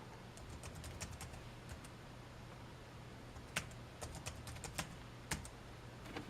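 Keys tapped on a computer keyboard to enter a password, with sparse soft clicks early on and then a denser, sharper run of keystrokes in the last few seconds over a steady low hum.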